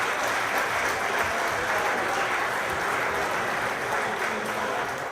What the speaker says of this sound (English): Let's give them a round of applause for the beautiful music they provided today.